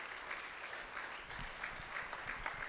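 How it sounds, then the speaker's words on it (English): Sustained applause from a synagogue audience at Temple Aliyah, steady and dense clapping throughout, with faint voices mixed in underneath. "a round of applause for what ADL does"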